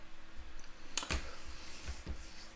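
A password being typed on a computer keyboard, a few distinct close key taps spaced unevenly over a couple of seconds against a quiet room.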